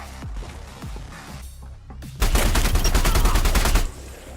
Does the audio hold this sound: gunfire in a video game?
yes